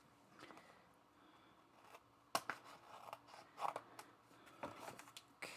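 Paper is cut with scissors at a desk during a scrapbooking session, a few crisp snips and rustles scattered across a quiet room, close and fairly soft.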